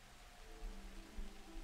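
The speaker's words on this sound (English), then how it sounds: "We have the heavy rain effect going." Heavy rain ambience playing in a Foundry VTT tabletop game session, a steady faint hiss of rainfall with soft low thumps, quiet and continuous.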